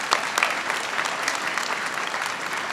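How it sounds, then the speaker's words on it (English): Audience applause fills a hall at a medical school white coat ceremony as the Vice President for Academic Affairs and Dean is introduced, a steady dense clapping that holds evenly throughout. "Let's give her a big round of applause."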